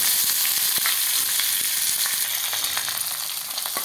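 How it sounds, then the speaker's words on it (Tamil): Dried red chili and green chili fry in hot oil for a vegetable kootu, giving a dense, continuous close-up sizzle with scattered crackles and pops. "இதில் ஒரு மிளகாய் வத்தலும் ஒரு பச்சை மிளகாயும் போட்டிருக்கிறேன் அதுவும் சேர்ந்து கொஞ்சம் பொரியட்டும்"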